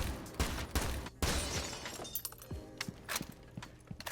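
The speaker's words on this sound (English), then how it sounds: "You need to start shooting the glass of windows" Gunfire shattering window glass in Rainbow Six Siege, several sharp shots each followed by crashing, tinkling glass breaking, with scattered debris falling afterward.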